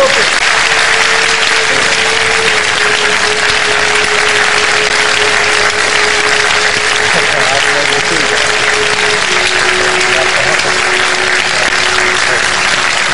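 Loud, sustained audience applause welcoming a guest at a studio interview, a dense continuous clapping wash throughout with a steady tone running underneath.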